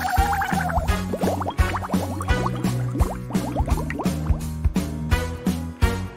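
Bubbles and water fill a bath in a paper cat video game, a busy stream of bright bubbling, dripping and gurgling over a steady rhythmic musical backing.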